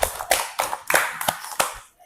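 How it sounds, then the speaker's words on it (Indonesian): A small group of students in a classroom clapping for one another, a short run of distinct, fairly close hand claps in loose bursts before trailing off. "beri tepuk tangan untuk kalian."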